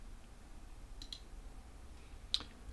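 A faint computer mouse clicks on a PC software screen: a quick double click early on, then a single sharper click near the end, in an otherwise quiet room.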